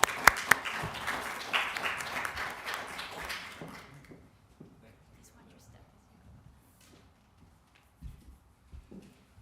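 An audience at a Boston University lecture welcomes Professor Holton with applause that starts loud and full, then thins and fades out over several seconds, with a few scattered claps afterward.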